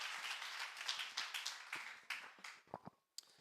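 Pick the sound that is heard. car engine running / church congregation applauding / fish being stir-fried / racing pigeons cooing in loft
church congregation applauding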